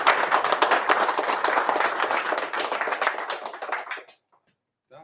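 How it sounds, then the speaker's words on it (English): Applause from an audience at a London meetup gathering, many hands clapping densely and steadily for about four seconds before stopping abruptly, followed by near silence. "All right, big round of applause."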